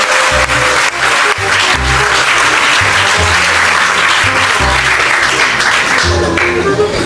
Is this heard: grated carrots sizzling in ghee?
no